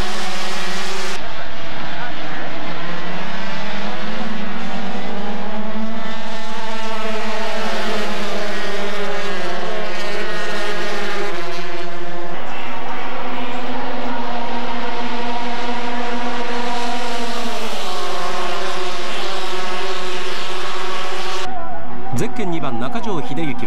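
GP250 and GP125 racing motorcycles howl around Fuji Speedway in a tight pack, high-revving two-stroke engines wailing and shifting pitch as they pass, loud and nearly unbroken throughout.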